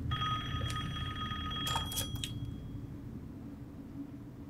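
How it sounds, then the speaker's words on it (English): A telephone rings in the Resident Evil Village video game, with repeated bright electronic bell tones over a steady low rumble of game ambience before the ringing fades out. "Answer the goddamn phone."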